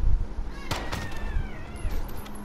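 People imitate cat meows, a couple of drawn-out, wavering meow-like cries rising and falling over a murky, noisy background.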